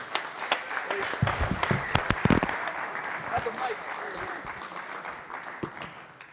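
A room of people applauds all-conference players on a team, steady clapping mixed with shouts and chatter, with voices talking over it throughout.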